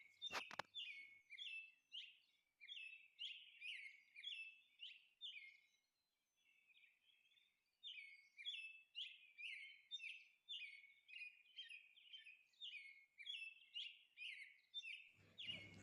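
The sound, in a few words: parrot calling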